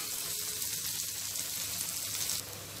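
Onion pieces frying in a pan, producing a continuous close sizzle with a bright, constant hiss that drops slightly near the end.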